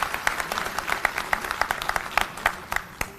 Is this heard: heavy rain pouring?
no